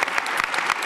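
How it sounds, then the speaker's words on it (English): Dense, steady applause from a conference audience for panelists at a climate change summit, a brief burst of many hands clapping close and loud with no talk over it. "Let's get another round of applause for our panelists today, and Dean Peck, the stage is yours."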